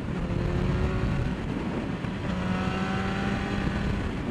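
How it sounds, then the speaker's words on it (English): A Yamaha FZ1 motorcycle engine warming up on a roadside, a steady close idle drone with a low hum that holds evenly throughout, no voices. "Warming up that engine"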